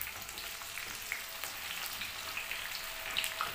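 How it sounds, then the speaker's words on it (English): White onion and yam beans fry in a pan, giving a steady, soft sizzle with faint crackles and pops throughout, fairly quiet and close, with no talking. "So we fry it now."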